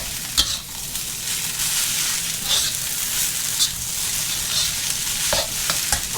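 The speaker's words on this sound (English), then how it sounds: "And your frozen peas will cook as you stir the rice." Shrimp fried rice with frozen peas sizzles in a hot pan while a spatula stirs it, a steady frying hiss broken by occasional scraping clacks, close and fairly loud.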